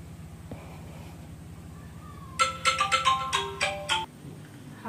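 A telephone ringtone plays during a call. After a few seconds of low hum, it sounds as a bright, repeating melodic chime of about seven quick pulses, loud and close, then stops.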